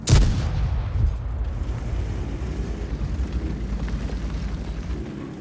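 A tank cannon in World of Tanks, on the FV1066 Senlac, fires a single loud close boom at the start, followed by a long rumbling decay under steady low engine drone.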